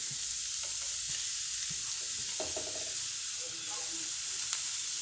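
Mashed boiled potato sautéed with vegetables in a pan for vegetable kachori filling, a quiet hissing sizzle with light scraping and stirring clicks over a few seconds.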